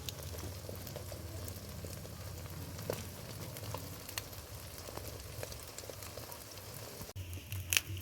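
Egg-dipped toast fries in a mix of butter and refined oil in a wok, giving a faint, steady sizzle with light crackles and a soft low hum, without speech.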